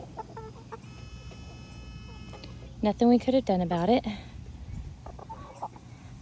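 Chickens cluck in a quick burst of several calls, close by, while a person speaks softly nearby.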